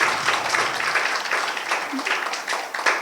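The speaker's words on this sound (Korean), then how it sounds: "마무리하시라는 박수 같습니다." Audience applause at a science-and-religion symposium debate in a lecture hall, a steady, dense patter of many hands clapping that lasts about three seconds, fairly close and unbroken, with a faint voice underneath.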